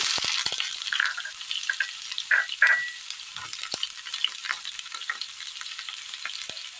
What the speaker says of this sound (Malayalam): ചൂടായ എണ്ണയിലേക്ക് കടുകിട്ട് കൊടുക്കാം